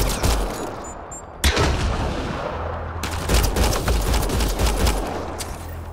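Gunfire in the sci-fi video game Mass Effect Andromeda, loud bursts of rapid shots and blasts layered over a dense rumbling battle bed, with a sharp crack near the start and continuous firing throughout.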